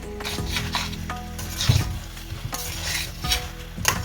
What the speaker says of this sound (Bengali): সব কিছুকে একসাথে কষাতে হবে আলুগুলোও দিয়ে দিলাম একসাথেই